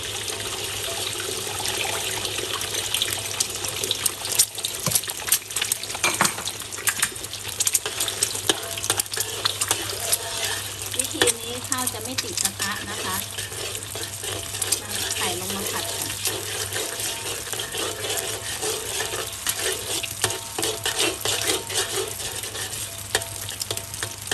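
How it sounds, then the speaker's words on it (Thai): Egg being stir-fried in a pan for sausage fried rice, a steady broadband sizzle with scraping stirs throughout, fairly close and continuous, with a low background hum underneath. "เราจะนำไข่ลงมาผัดก่อน"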